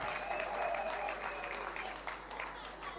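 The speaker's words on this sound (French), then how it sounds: "Sous vos acclamations s'il vous plaît." Guests at a twin sisters' double wedding reception applaud as family members stand, a broad, dense burst of clapping that slowly eases, with faint voices under it.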